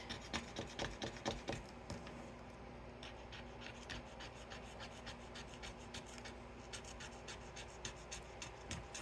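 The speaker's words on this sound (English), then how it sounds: "too much scratching" Repeated rubbing scratches, like a coin scraping a scratch-off lottery ticket, in quick rhythmic bursts, close and quiet with brief pauses between strokes.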